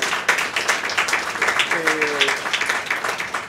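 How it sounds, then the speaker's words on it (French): Audience at a French-language talk on social investment applauding, a steady patter of many hands clapping close by, with a brief spoken word partway through. "Je pense qu'on peut les applaudir."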